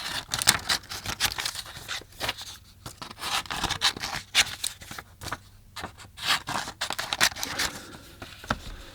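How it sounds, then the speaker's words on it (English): Scissors trim paper beside an oil painting canvas with a quick run of crisp, close snips and rustles. The cuts come in irregular bursts with short pauses between them, and no one talks. "So usually I get a scissors and just trim this down."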